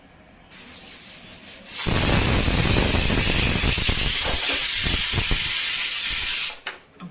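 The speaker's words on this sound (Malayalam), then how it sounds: "അപ്പോൾ ഒരു വിസിലടിക്കണോട് കൂടിയിട്ട് നമ്മളതൊന്ന് മാറ്റി വെച്ചിട്ടുണ്ട്" A pressure cooker on a kitchen stove lets out a loud, steady rush of hissing steam for several seconds, cutting off sharply at the end after a quieter lead-in.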